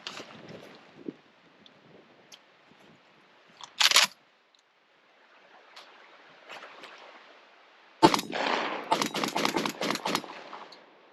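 Mossberg 930 semi-automatic shotgun fired with cheap trap ammunition outdoors, with a few isolated loud reports early on followed by a rapid string of closely spaced shots near the end.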